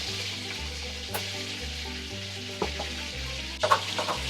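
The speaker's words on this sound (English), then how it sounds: "I'm just stirring that sour cream into that milk mixture" Sour cream being stirred into a milk mixture in a pan with browning butter, a continuous sizzle beneath soft spoon scrapes and a brief clatter near the end.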